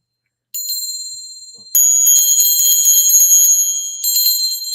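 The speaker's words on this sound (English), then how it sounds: "It's those nice sweet bell sounds, not those big clunker bells" Small vintage Christmas bells jingle in bright, sweet tinkling bursts, one shake then a longer continuous ringing that swells again near the end, close and loud with no voices.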